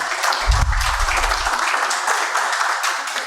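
Conference attendees applaud a state deputy being introduced, a dense burst of clapping from a sizable crowd with a brief low thump early on, continuing evenly to the end.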